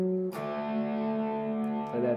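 A distorted electric guitar plays a riff, with a sustained chord broken by a sharp strum change near the start and another near the end, close and loud with no talking.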